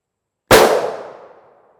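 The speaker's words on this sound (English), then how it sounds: "we'll take a shot out of each one of these guns" A single loud gunshot from a .44 Magnum revolver firing a 250-grain Winchester Black Talon bullet into gel, a sharp blast followed by a ringing decay about a second long, with no talk.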